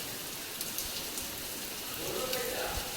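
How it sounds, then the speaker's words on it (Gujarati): Rain falling steadily in Dwarka just after an evening aarti, a dense even patter that runs through the whole stretch at moderate level with a slight swell near the end, no voices over it. "જુઓ વરસાદ ચાલુ થઈ ગયો છે"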